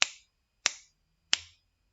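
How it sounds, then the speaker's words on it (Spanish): Three crisp finger snaps, evenly spaced about two-thirds of a second apart, close and sharp against silence. "Ustedes escucharon 3 chasquidos"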